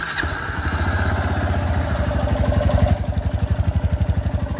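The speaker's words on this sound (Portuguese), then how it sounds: "Primeiro o som das motos." Two motorcycles, a 2023 Honda CB 300F Twister and a 2023 Honda Lander 250, start up and run close by with a steady, throbbing idle that pulses faster and louder partway through.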